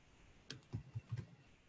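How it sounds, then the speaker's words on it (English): A few soft, quick key presses on a computer keyboard click in an irregular burst of four or five taps, quiet and close, with no talking. "when I want to type again with my regular typing keyboard"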